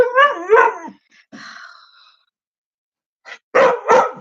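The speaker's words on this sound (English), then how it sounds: "Don't bark at me!" A dog barks and howls close up, two loud drawn-out yowling barks followed by a softer whine, a pause, then a further pair of sharp barks.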